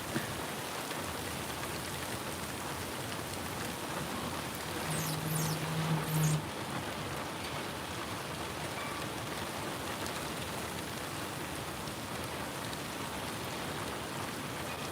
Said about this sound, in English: that's the sound of rain again